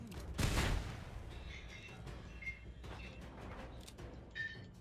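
Gunfire rings out in the Mad Max video game, a loud burst of shots near the start followed by scattered fainter bangs and in-game effects.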